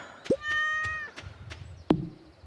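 A cat meows twice in Stardew Valley, a short call and then a later one, set against a soft farm game soundscape with a few light thunks.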